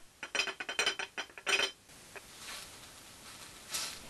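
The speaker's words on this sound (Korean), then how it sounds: "유리잔 위에 접시를 덮어 마찰음을 내고요." A foley artist rubs a plate over a glass, producing a quick run of bright clinking, scraping contacts in a close, rhythmic burst, then a few fainter scrapes and a soft swish trailing off.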